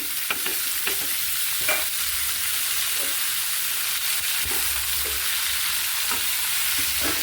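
Sweet pumpkin pieces fry in a frying pan with a steady, close sizzle, broken by repeated scraping strokes as they are stirred and turned.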